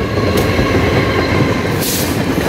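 An E404 electric locomotive hauls four Hello Kitty cars and three painted tourist cars past on a Taiwan round-island sightseeing run, a loud, steady rush of wheels and rail rumble close by with faint high squeals.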